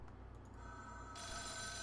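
A spatialized telephone ring from a Google VR audio demo on Google Cardboard: a quiet, continuous trilling bell that brightens partway through.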